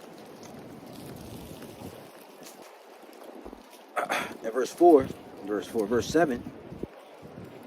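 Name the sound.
wind blowing outdoors into the microphone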